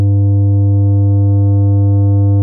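Steady sine-wave test tone pushed past full scale into soft clipping, a constant buzzy drone with a strong low fundamental and a stack of added harmonics, loud and unchanging with no voices.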